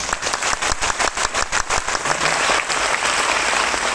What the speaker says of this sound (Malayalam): കയ്യടിയിൽ ഒരു പിശുക്കും കാണിക്കരുതല്ലോ.